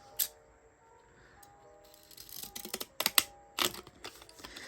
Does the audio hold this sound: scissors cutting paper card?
yes